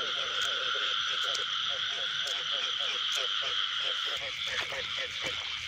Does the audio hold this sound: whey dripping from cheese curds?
no